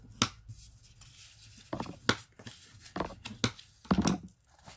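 Paper is creased by hand to mark the folds for an Advent calendar box: a series of sharp, close crackling presses and brief rubs in an irregular rhythm, quiet between strokes, with no speech.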